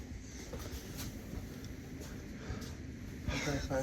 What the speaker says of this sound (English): That was the tornado, Michael.